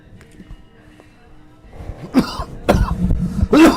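A few harsh coughs and throat-clearing bursts in quick succession, starting faint and growing louder and closer toward the end.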